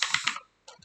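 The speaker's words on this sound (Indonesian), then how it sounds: "Kita ketikkan mongos." A burst of keystrokes typed on a computer keyboard while entering a MongoDB shell command, a quick run of close clicks, a short pause, then two more taps, with no talking.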